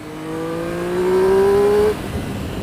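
A Triumph Speed Triple S motorcycle accelerates hard on a highway, its engine tone climbing steadily in pitch and loudness for about two seconds before cutting off abruptly into softer rushing wind and road noise.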